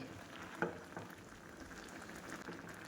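Orange and coconut barfi mixture cooks in a pan, giving a faint, steady low bubbling and soft sizzle with a couple of small pops, no voices.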